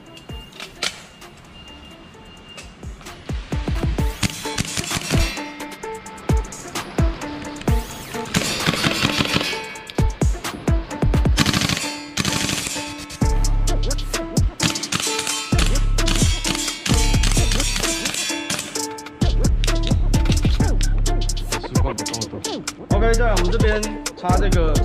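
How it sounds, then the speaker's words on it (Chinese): A gas-powered airsoft gun running on 12 kg gas fires repeated sharp cracks, first in single shots, then in quick rhythmic volleys, loud and close with clacking action noises. "我们分别去尝试呢不同压力的瓦斯射击起来的体验跟它的作动顺畅度是什么感觉"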